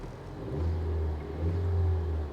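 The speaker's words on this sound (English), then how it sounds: "Give her a little rev." A car engine revs twice at idle, two smooth rising swells of a mid-pitched hum, close and steady, with no talk over it.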